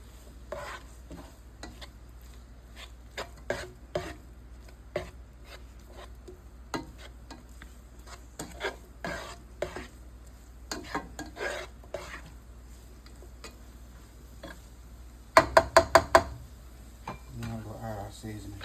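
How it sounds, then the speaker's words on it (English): Green onions, Italian seasoning and parsley being stirred together, soft intermittent scraping and rubbing strokes close by, ending in a quick burst of sharper clicks near the end. "Green onions, Italian, parsley. Mix all that together."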